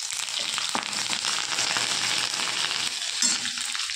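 Green chillies, bay leaf and five-spice (panch phoron) fry in hot oil with a dense, steady sizzle and a few faint stirring knocks, no voices.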